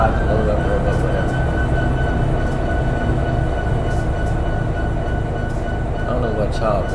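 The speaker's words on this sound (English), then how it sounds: "I like the sound of EMDs, especially when they in notch 5 through 8." Steady, loud diesel rumble of an EMD locomotive engine in the Run 8 train simulator game, a continuous drone with a constant hum throughout and no clear breaks.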